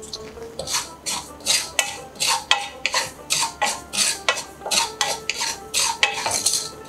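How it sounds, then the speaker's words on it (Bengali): Poppy seeds roasting dry in a pan for aloo posto, stirred with a spoon in a steady run of close, repeated scraping strokes, each one a bright metallic rasp against the pan, with no talk. "আলু পোস্তর জন্য প্রথমে আমি পোস্তটাকে একটু রোস্ট করে নেব"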